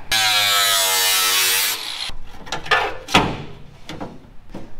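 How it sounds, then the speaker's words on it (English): A power cutter whines loudly and steadily on metal during a rat rod wrecker build, stopping after about two seconds, followed by scattered clanks and knocks of metal parts being handled nearby. "All right, let's get a cutter."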